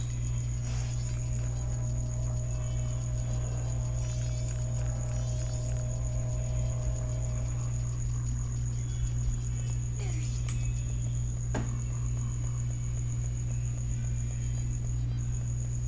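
Crickets chirp without a break in the ambience of The Legend of Zelda: Majora's Mask, a thin, high, steady trill running beneath scattered game sound effects and a low background hum.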